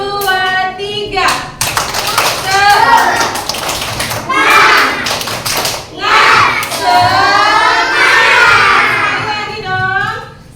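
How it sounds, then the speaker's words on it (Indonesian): Second-grade elementary schoolchildren in a classroom doing a rhythmic spirit clap on cue, bursts of loud clapping and thumps mixed with children's shouting and a teacher's voice. "coba sih tepuk semangatnya mana kelas 2D"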